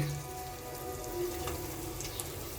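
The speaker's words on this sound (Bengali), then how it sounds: "এই যে তেলে দিয়ে দিচ্ছি গরম তেলে" Corn pakora batter frying in a shallow layer of hot oil, a faint, steady crackling sizzle like light rain that continues evenly throughout.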